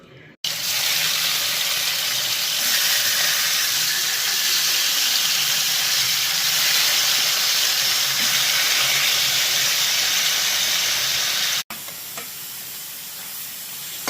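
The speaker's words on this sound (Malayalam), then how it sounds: "ഇത് കുറച്ചുകൂടെ ഒന്ന് ഫ്രൈ ആവുന്നവരെ നമുക്ക് വെയിറ്റ് ചെയ്യാം" Chicken coated in turmeric and chilli powder masala fries in hot oil, giving a loud, steady, hissing sizzle that runs almost the whole time, with a brief cut just before the end.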